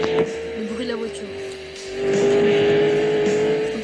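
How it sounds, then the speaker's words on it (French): A car engine in the Ultimate Car Driving Simulator video game, a steady tonal drone that climbs slightly in pitch as it accelerates, with someone talking over it. "Le bruit de la voiture."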